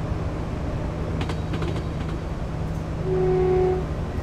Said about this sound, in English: it's kind of awesome seeing a high-speed train on the track